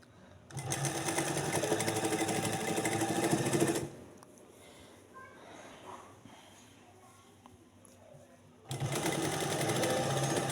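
A sewing machine stitches a trouser waistband in two loud, rapid mechanical runs, separated by a quieter pause of handling noise.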